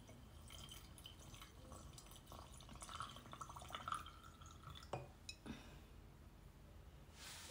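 Water is slowly poured into a glass jar holding six coins, giving soft trickling and dripping with a few brighter splashes and clinks, faint and close.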